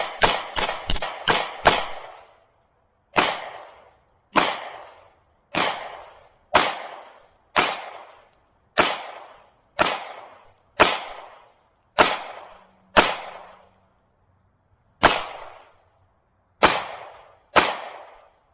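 A Sig Sauer P320 M18 9mm pistol fired at fruits and vegetables outdoors, a quick string of five shots followed by a dozen more sharp cracks at roughly one-second intervals, each with a brief decaying echo and no talking.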